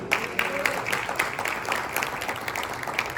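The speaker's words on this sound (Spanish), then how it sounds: "¿Cuánto le dan ese aplauso fuerte al Señor?" A church congregation applauds loudly, a dense wash of many hands clapping steadily throughout with a few sharper claps standing out.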